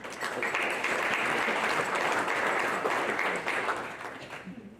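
A room of people at a board of governors meeting applauds board members, a steady moderately quiet wash of clapping that holds and then tapers off toward the end.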